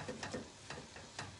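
Mince sizzles quietly in a large pan as it is stirred, with soft scraping strokes recurring every half second or so under a low, steady frying hiss.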